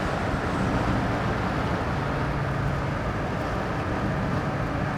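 A 1966 Chevrolet C10 panel van cruises at about 50 to 55 mph, heard as a constant, even rumble of engine and road noise from inside the cab, with no talk.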